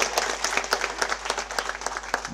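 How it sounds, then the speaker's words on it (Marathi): An audience claps steadily at a Chhatrapati Shivaji Maharaj Jayanti gathering in Maharashtra, a dense patter of many hands that keeps an even level throughout with no voices above it. "टाळ्या वाजवा, टाळ्या वाजवा।"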